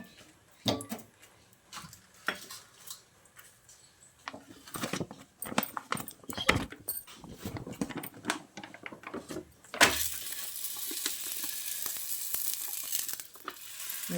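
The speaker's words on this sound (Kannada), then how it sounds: "ಇವಾಗೊಂದು ಕಾವಲಿಗೆ ಎಣ್ಣೆ ಹಚ್ಚಿಟ್ಕೊಂಡಿದ್ದು" Chana dal holige flatbread frying on an oiled griddle, a steady close sizzle that swells loud and continuous in the second half, with scattered clatter of handling before it.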